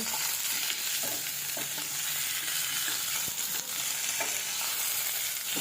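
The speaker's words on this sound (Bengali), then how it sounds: "ভাজিটা আমি দুই থেকে তিন মিনিট ভাজবো" Potatoes fry in hot oil in a pan with a steady, loud sizzle, while a spatula stirs and scrapes now and then underneath, close up and without speech.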